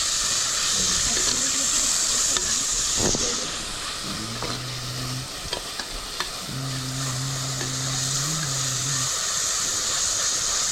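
Onions sizzle and fry steadily in oil inside a clay pot, a constant bright hiss with occasional stirring scrapes, while a low hum drones faintly underneath.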